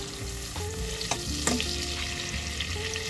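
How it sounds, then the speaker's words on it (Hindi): Chopped green chilies being stirred as they fry in butter and oil for street-style Mumbai pav bhaji, a steady close sizzle broken by a few scraping stirs of the spoon, with no talking. "इसको हल्के हल्के चला लेंगे।"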